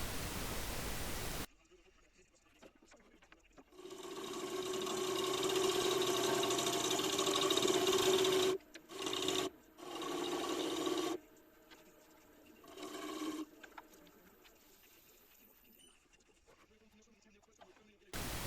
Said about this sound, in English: I can speed up the lathe now and finish off the outer diameter of the base